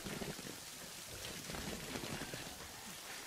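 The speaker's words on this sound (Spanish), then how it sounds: "Es bueno acostarme y congelarme en la lluvia." Steady rain hisses and patters on a surface at Annapolis, a dense even wash of drops with no voices.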